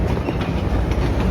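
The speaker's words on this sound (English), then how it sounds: "The Naugatuck Railroad train" A Naugatuck Railroad train passing on the tracks near the Naugatuck River, heard as a loud, close, continuous rumble with a faint rhythmic clickety-clack of wheels.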